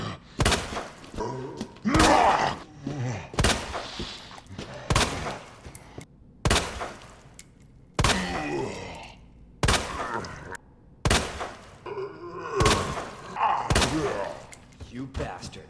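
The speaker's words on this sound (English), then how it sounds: "it took 12 shots total to defeat a zombie with the Matilda" Matilda handgun fired at a zombie in Resident Evil 2 Remake, about a dozen sharp, loud shots at irregular intervals, with wet impact thuds and zombie groans between them.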